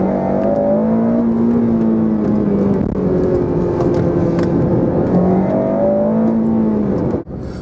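A Honda Civic Type R FN2 engine revs high in first gear toward 8,000 RPM, a loud, close, sustained whine rising and falling in pitch as it climbs through the rev range, ending with an abrupt drop.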